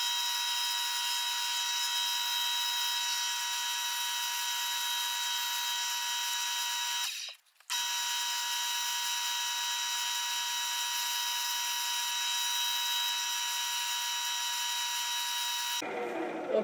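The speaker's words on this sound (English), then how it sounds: "You're just going to sand this down so that these bushings go right onto the pen." Sanding an olive wood slimline pen blank spinning on a lathe gives a steady, close, high-pitched whirring hum with a brief drop in the middle, then a low thud near the end.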